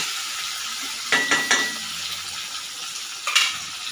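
Tomato goes into a frying pan of Bengali fish curry, making a soft steady sizzle with a few sharp clinks and scrapes as it is stirred in, in two quick clusters followed by a lone clatter near the end.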